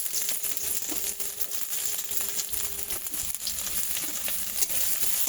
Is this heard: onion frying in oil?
yes